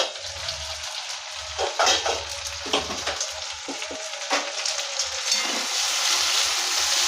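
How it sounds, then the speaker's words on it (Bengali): Okra fries in a covered pan for a yogurt okra dish, a continuous close sizzle broken by a few louder bursts and clattering knocks as the pan is handled. "চলুন দেখি ভেন্ডিগুলো ভাজা হলো কিনা"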